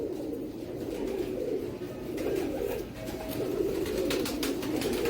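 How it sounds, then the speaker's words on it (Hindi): Teddy pigeons coo continuously in low, throaty rolling calls, several birds overlapping close by with light fluttering and rustle. "ये चौथे नंबर का कबूतर।"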